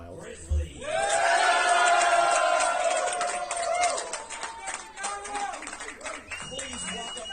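Home crowd at a Chicago Grizzlies versus New York Knights squash match roaring and cheering, a loud swell of voices with claps that peaks early and then fades into scattered shouts beneath an announcer's amplified speech.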